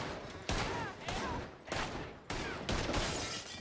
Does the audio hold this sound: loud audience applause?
no